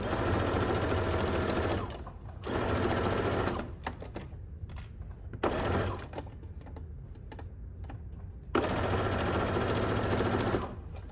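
A sewing machine stitching fabric for a 16-inch square pillow, with the foot running along the fabric edge: close, steady runs of rapid stitching broken by brief stops and quieter handling noises.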